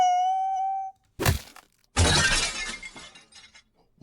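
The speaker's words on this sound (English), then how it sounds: "You slip, smashing the back of your head into the bathroom mirror." A bathroom mirror shatters as a sound effect. A sharp crack is followed by a loud burst of breaking glass with tinkling shards that fade out. A brief tone comes before it, and there is no talking.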